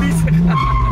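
Nissan Skyline R34 drifting, a short loud tire squeal with a steady whine under engine noise, heard briefly and close.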